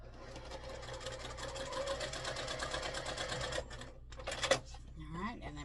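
A sewing machine runs a steady stitching seam down the side of a quilt block for several seconds, then stops, followed by brief fabric handling and a faint voice.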